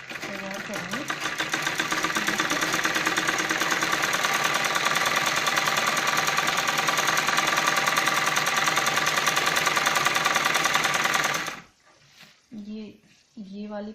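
Sewing machine stitching a balloon salwar, running in one long continuous close whir for about eleven seconds, then stopping as a voice begins speaking.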